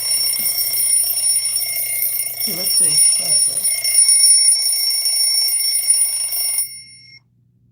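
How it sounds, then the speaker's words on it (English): An alarm clock rings steadily and loudly with a sustained high electronic tone, cutting off abruptly near the end, while a person speaks briefly over it. "So you hear that alarm, right?"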